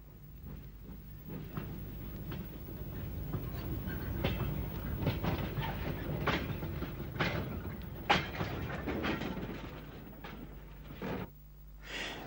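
Irish J30 0-6-0 tank steam locomotive number 90 running, a steady rumble of wheels on track with rhythmic clicks and knocks, moderately distant, for about twelve seconds.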